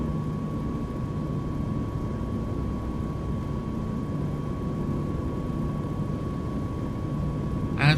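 Simulated Caribou twin-engine aircraft taxiing onto a runway in a flight simulator game, a steady low engine drone with a constant tone running throughout at even loudness, with a brief burst of another sound at the very end.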